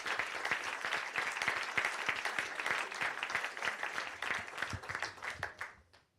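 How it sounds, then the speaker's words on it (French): Audience applause for two event organizers at an agricultural tech gathering, a steady crowd of clapping hands that holds for several seconds before thinning and stopping. "on va même vous applaudir 2 fois parce que vous êtes 2"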